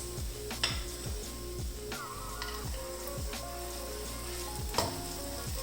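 Moong dal halwa cooked with ghee, chopped almonds and black raisins is stirred in a pan, a faint continuous sizzle with rhythmic scraping strokes and a few sharper metallic clinks.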